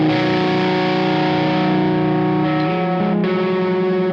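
Electric guitar chords played through a distortion or overdrive pedal, loud, thick and sustained, ringing steadily before shifting to another chord, then cut off abruptly at the end, with no talking.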